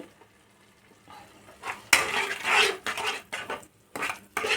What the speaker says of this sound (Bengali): নুন দিয়ে মশলাটা কষাচ্ছি